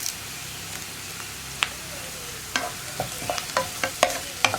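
Cauliflower for a pepper fry, with curry leaves, sizzles steadily in a pan while a spoon stirs it, giving a run of sharp scrapes and clicks over the continuous hiss.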